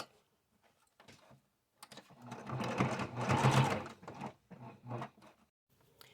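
A sewing machine stitches a seam along the side of a shirt being upcycled, running in several short bursts that build to a longer, louder run in the middle before tapering into brief stops and starts.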